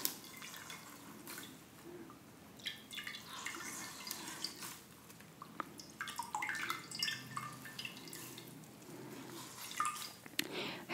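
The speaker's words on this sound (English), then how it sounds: "I have a washcloth that has been soaking in filtered water with a bit of peppermint oil." A wet washcloth soaked in filtered water with a bit of peppermint oil drips and squishes softly as it is wiped over an arm, close and quiet, with scattered trickles and light wet rubbing throughout.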